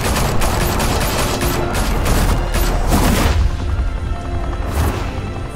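Sustained volleys of gunfire in Batman: The Telltale Series burst out right after the order to open fire, loud and dense, with booming rapid shots filling the whole stretch.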